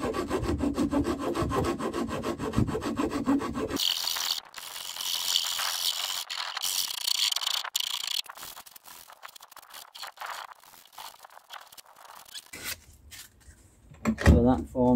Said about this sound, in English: Then I'll dress that up with a file, sandpaper, and that'll be that.